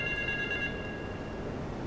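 A telephone in Grand Theft Auto 3 rings faintly with a thin electronic trill that fades out partway through, set against low ambient game noise.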